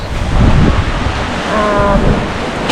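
Strong wind roars over breaking waves on a sailboat at sea, running under a triple-reefed headsail in 19 to 20 knots of wind; the rush is loud and continuous throughout, with no talking.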